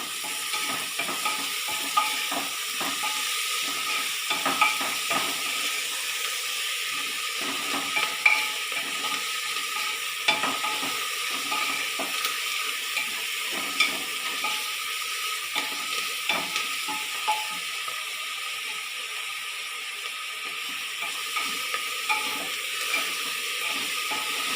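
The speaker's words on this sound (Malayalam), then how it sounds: "സവാള നമുക്ക് പെട്ടെന്ന് വഴന്ന് വരാൻ വേണ്ടി നമുക്ക് കുറച്ച് ഉപ്പിടാം." Onions with a pinch of salt sautéing in a pan for a beef curry, a steady soft sizzle broken by frequent scraping stirs of a spoon, close and continuous without speech.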